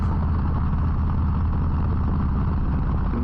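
A Harley-Davidson Low Rider ST motorcycle cruising along Route 9W, giving a steady, rumbling engine drone with continuous road and wind noise and no break.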